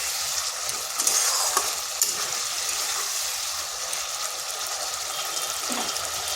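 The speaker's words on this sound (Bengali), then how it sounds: "আলুগুলো বেশ ভালোভাবে মশলার সাথে মিশিয়ে নিচ্ছি।" Fried potatoes being stirred with spices and melted tomatoes in a hot pan, a steady close sizzle with scraping stirs running throughout, no voices.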